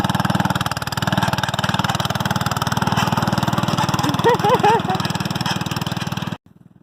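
Farm tractor engine running close by with a steady, rapid pulsing chug throughout, cutting out near the end; a voice speaks briefly over it.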